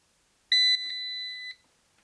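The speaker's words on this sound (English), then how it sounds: "press that button, you'll hear a beep" Power-on beep from a MidNite One inverter, a single clear electronic tone, sharp at first and then held for about a second before cutting off in a quiet room.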